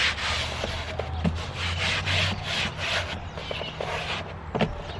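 A foam window insert is pulled out of a camper van window, producing a close, continuous scraping and rubbing squeak of foam against the frame over several seconds.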